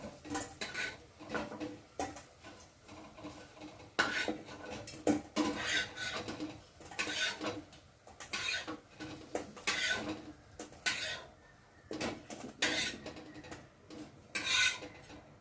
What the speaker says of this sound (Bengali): তো চলো, ভাজা হয়ে গেছে, আর আমি একে একে বড়াগুলোকে তুলে নেব।